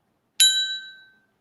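A single bright bell ding rings out alone, sharp at the onset and then fading smoothly over about a second with a clear ringing tone.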